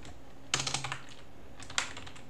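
A computer keyboard being typed on while pressing Ctrl C: a quick run of about six clicking keystrokes, a pause, then one more sharp key press, close and clear with no talking.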